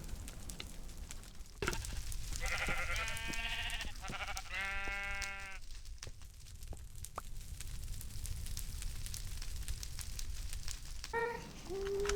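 Sheep in the Minecraft video game bleating in a few short, clear calls, two close together and another near the end, over a steady low crackling bed.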